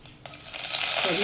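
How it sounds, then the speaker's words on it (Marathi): Mustard seeds and cumin crackle in hot oil for a tempering, a few sharp pops at first, then the hiss of sizzling builds to a dense, bright spluttering, close and steady with no talk. "मोहरी तडतडली की त्याच्यामध्ये जिरं"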